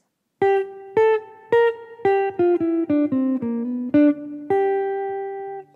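Clean electric jazz guitar phrase from a solo, with hammer-ons onto the third, played as about a dozen distinct plucked notes in a quick swinging run, ending on a sustained note, alone and clear.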